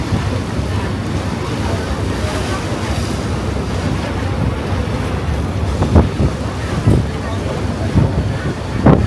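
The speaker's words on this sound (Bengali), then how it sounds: "প্রচুর পরিমাণে বাতাস।" Strong wind roars steadily against the microphone aboard a large river launch travelling from Dhaka toward Munshiganj, with rushing water underneath and a few louder gusts and thumps near the end.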